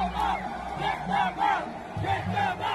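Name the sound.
stadium crowd chanting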